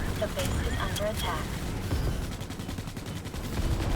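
Rapid gunfire in the video game Starship Troopers: Extermination crackles continuously and loudly, layered with a dense game mix and occasional tonal effects, while someone talks over the action.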